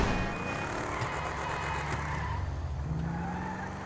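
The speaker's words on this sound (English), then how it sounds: "Oh look, it's spun out already again." Car in GTA V with lots of power and little traction skids and spins out, a steady engine roar with tire scrub running throughout, loud and close, no voices.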